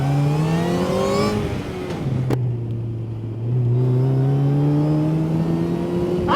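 A DF Goblin kit car being driven hard through corners: its engine drones loudly and continuously, dipping in pitch, then climbing again as it accelerates, with no talking.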